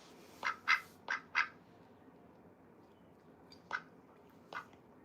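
A house-kept pet duck quacks four times in a quick burst, then twice more after a pause, moderately loud and close against a low background hiss, without speech.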